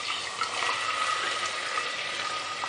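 Tomato puree frying in a pan for palak paneer gives a steady, dense sizzle that runs evenly the whole time, close and fairly loud, with no voices.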